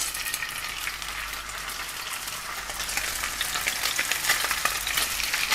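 Fish fillets sizzle steadily in a smoking-hot pan for a British fish pie, a dense, continuous frying hiss that swells slightly louder partway through, with no voices.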